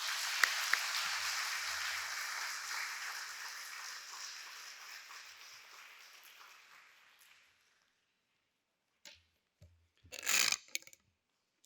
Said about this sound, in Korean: 우리 환영하면서 우리 박수로